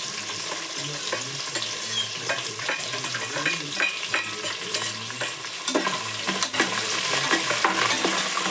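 Cumin and grated ginger frying in a pan for khara pongal, a steady close sizzle punctuated by repeated scraping and stirring strokes, with no voices.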